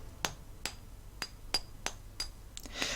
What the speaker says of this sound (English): Use a hammer and chisel to weaken the wall.